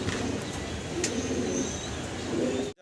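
Pigeons at a pigeon farm in Mirpur 12 give soft, low cooing calls that run steadily through the whole stretch, fairly close, with a faint chirp or two above and a brief cut at the end.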